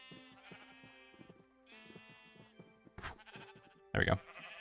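Sheep bleating in the video game Minecraft, several short wavering bleats close by over steady game music, with one louder bleat near the end.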